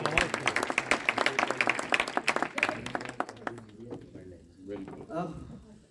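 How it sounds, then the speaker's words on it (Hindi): Audience applause for a singer at a poetry book launch, a burst of dense clapping that thins out and fades, followed by talk. "एक बार फिर तालियां सिंधु जी के लिए।"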